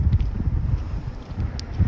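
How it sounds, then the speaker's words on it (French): Wind buffeting a phone's microphone outdoors, with low rumbling gusts in uneven bursts, close and fairly loud, no speech. "Là, j'ai du vent, ça va aussi être l'occasion de tester le micro"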